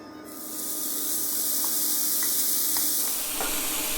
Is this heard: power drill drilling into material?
no